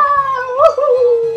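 The Toad character in Super Mario 3D World gives a yipping, dog-like vocal cry, a loud sustained wavering tone with a sharp bark-like burst in the middle, heard alone over faint game music.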